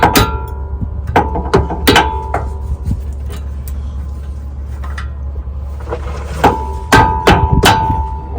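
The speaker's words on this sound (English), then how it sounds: "Take a hammer, tap it in." A hammer taps a rear brake part into place on a school bus conversion, sharp metallic knocks in uneven clusters, some ringing briefly, close and loud over a steady low hum.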